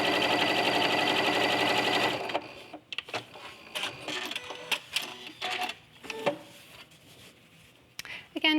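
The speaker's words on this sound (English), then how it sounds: "with a 1/4 inch seam allowance, we're going to sew this piece down" A sewing machine stitches down a quilt piece with a quarter-inch seam, a steady loud whirring run for about two seconds that then stops, followed by scattered clicks and handling noises.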